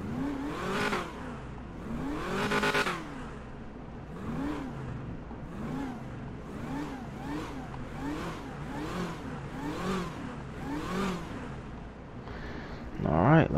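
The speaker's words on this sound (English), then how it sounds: "Let me give you a couple more revs." Repeated revving of a car engine in the video game GTA V, likely a 1975 donk or a Hellcat, with about eight rhythmic rising-and-falling revs at steady loudness and a louder burst at the end.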